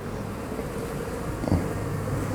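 Honey bees buzz steadily and close by at an open hive during an inspection, a dense continuous hum with some wind rustle mixed in.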